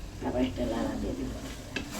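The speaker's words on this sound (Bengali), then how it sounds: "আবার একটা লাড়া দিয়ে দিব" A spoon scrapes and turns fish bharta frying in oil, a short close stir over a gentle, steady sizzle.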